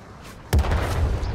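A single heavy KV-3 tank cannon shot in World of Tanks, one sudden deep boom with a rumbling tail that fades over about a second, loud and close.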